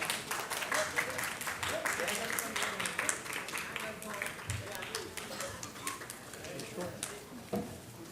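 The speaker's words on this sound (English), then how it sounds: "Friends, a huge round of applause." An audience claps to welcome a guest at a luxury property launch event, with dense, steady applause, some whoops and cheers, and an announcer's voice over it.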